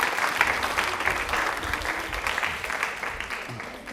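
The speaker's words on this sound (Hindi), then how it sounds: "ताली एक बार जोरदार हो जाए मैम के लिए।" Loud, sustained applause from a studio audience on a Women's Day quiz programme, honouring a female guest; dense clapping fills the whole stretch at steady strength, easing slightly at the end.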